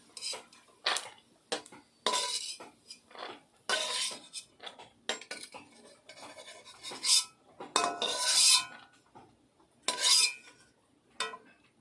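Fried cashew nuts being scooped out of a pan with a metal utensil, giving a series of irregular clinks, scrapes and metallic knocks at close range, spaced by short quiet gaps.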